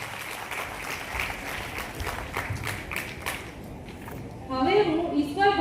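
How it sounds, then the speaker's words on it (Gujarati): An audience at a student award ceremony claps steadily at moderate distance for a few seconds, then the applause gives way to a voice speaking over a microphone. "તો એકવાર અર્જુનભાઈ માટે જોરદાર તાળીઓ"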